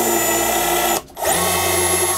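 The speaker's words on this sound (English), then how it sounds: "You drill a little pilot hole." A power drill whirs loudly and steadily while drilling a pilot hole in a wooden cabinet edge, cuts out briefly for a moment, then spins back up and keeps running.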